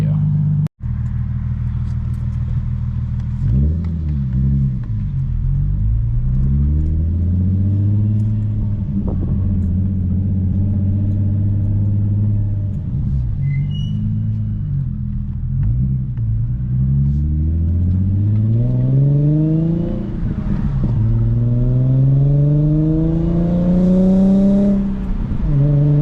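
A car with a custom single-exit exhaust revs repeatedly, deep rumbling swells climbing and falling in pitch over and over, close and loud throughout after a brief click at the start.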